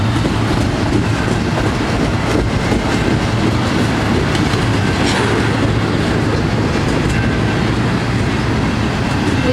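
A Norfolk Southern intermodal freight train heading south at a road crossing roars past close by, loud and steady throughout, with a continuous rumble and the clatter of its wheels.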